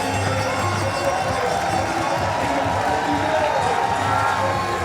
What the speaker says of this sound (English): Now listen to that for a cheer as the stopwatch runs.